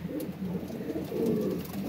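Breeder pigeons coo softly and continuously at close range, a low murmuring warble with no voices over it.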